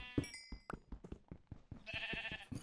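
Sheep in Minecraft bleating in several short, repeated calls at moderate level, with knocks and a brighter game sound rising near the end.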